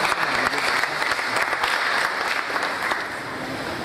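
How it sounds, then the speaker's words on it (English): A round of applause from an audience at a Nigerian internet technology event, dense steady clapping throughout that fades slightly toward the end. "Can I have a round of applause?"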